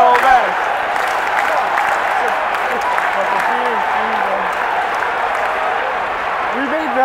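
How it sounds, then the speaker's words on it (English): Baseball fans at Citi Field during a Mets game clapping and cheering, a loud, continuous crowd roar with applause filling the space, voices chanting and shouting through it. "We made the fans even louder."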